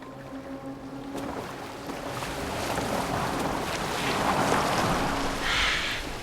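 A boat moves through water in the Assassin's Creed Valhalla video game, giving a soft, steady sloshing of waves and wind that swells gradually over several seconds, with no speech.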